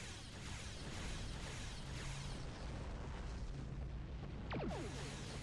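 Starship cannons fire in Star Trek Online space combat, a dense continuous barrage of booming bursts and blasts. A sharp descending streak near the end cuts through the loud, steady battle noise.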